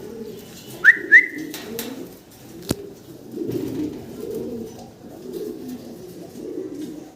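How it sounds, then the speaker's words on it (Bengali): A pair of fancy pigeons in a loft cooing softly and close by, with low rolling coos repeating throughout. Two short whistles and a sharp click break through early on. "আমরা এক জোড়া মডার্ন কবুতর দেখতে পারতেছি"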